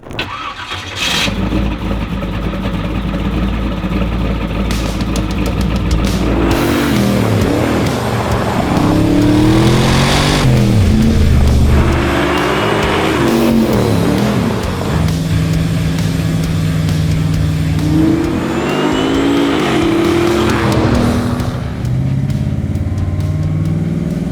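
A twin-turbo 1967 Chevy Nova restomod's engine starts, then roars and revs repeatedly as the car drives off, loud and close with rising and falling pitch.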